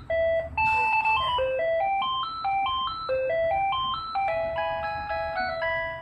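Melody ringtone from a Panasonic KX-TG3611SXB cordless landline phone, a bright electronic tune of quick stepping notes that plays continuously and clearly close by, with no one talking.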